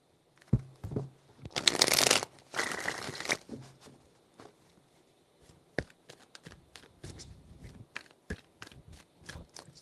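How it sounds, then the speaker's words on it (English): Tarot cards are riffled and shuffled in a few bursts, a dense crisp flutter followed by scattered taps and light handling sounds, close up with no talk. "Three shuffles."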